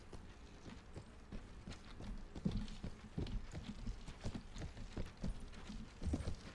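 Horse hooves clip-clop at a steady riding pace in the medieval combat game Mount & Blade, with a continuous rhythmic stream of muffled hoofbeats over a dense battle background and no talking.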